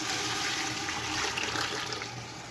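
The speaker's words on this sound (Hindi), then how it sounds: "अब हम यखनी डाल लेंगे" Yakhni stock pours into a pot of browned beef masala, making a steady close rushing splash of liquid that lasts the whole short moment.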